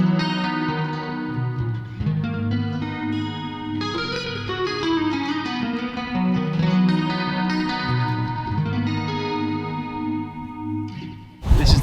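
Carbon fibre guitar played through a chorus and reverb effects patch, a shimmering run of strummed chords and notes with wide, swirling sustain, close and continuous, ending in a brief burst of noise.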